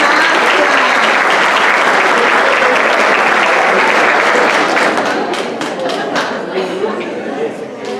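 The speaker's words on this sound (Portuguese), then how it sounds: "uma salva de palmas para a" Loud, sustained applause from an audience at a Master Mind event in Jaguariúna, dense clapping filling the whole stretch and tapering slightly toward the end, with a few sharper individual claps standing out late and crowd chatter mixed in.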